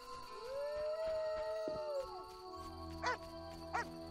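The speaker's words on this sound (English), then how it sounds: "Oh, shut up, dog." A dog howls in The Witcher video game: one long rising-and-falling howl, then two short yelps over a quiet game ambience, with no speech.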